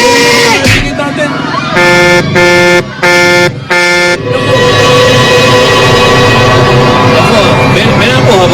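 A loud car horn blares in several long honks and a few short toots close by, with voices and street noise around it.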